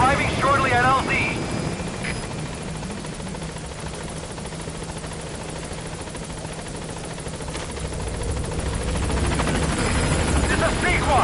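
Helicopter from the video game Metal Gear Solid V arriving at a landing zone, a steady loud rotor and engine drone filling the whole clip, rising slightly toward the end, with radio-style voice chatter over it.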